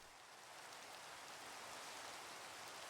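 Steady rain falling in a cave horror video game, a soft, even hiss of rainfall that stays constant and quiet throughout with no other sounds.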